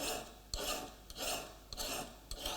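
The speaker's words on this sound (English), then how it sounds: "you can file it on top of the bench top like this, perfectly safely. So keep working the bevel." A fine file works the steel bevel of a layout knife resting on a wooden bench top, making four quiet, rhythmic rasping strokes, each starting with a sharp scrape and fading as it ends.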